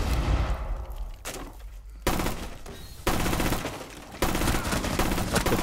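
Gunfire from a weapon in Rainbow Six Siege, bursts of loud close shots in rapid succession with sharp onsets, the firing cutting in repeatedly over a few seconds with no talking.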